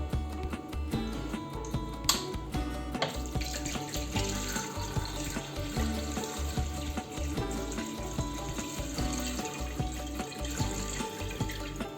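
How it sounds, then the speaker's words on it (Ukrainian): Cold water runs steadily from a tap into a pot holding rinsed raw chicken drumsticks and a thigh for broth, a continuous close splashing and gurgling with clinks of the pot, no speech. "І заливаємо водою."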